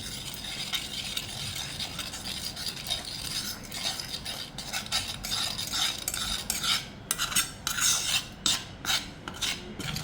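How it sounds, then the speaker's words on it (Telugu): Ground herbal ingredients, including sandalwood, are mixed in a bowl, giving soft scraping and rubbing strokes that grow into quicker, rhythmic stirring scrapes toward the end, close and fairly quiet. "ఇవన్నీ వేసాను ఇప్పుడు కలుపుతాను"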